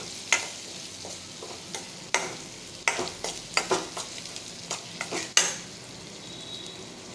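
Onion and crushed garlic cloves sauté in a pan for tomato chutney, a steady sizzle broken by repeated sharp scrapes and taps of a spoon stirring against the metal, close and fairly loud, with no talking.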